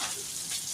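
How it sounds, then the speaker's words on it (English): Bacon frying in a pan makes a steady, close hiss and crackle of sizzling fat that fills the whole short moment without a break. "come over here and stir that bacon up a little bit more"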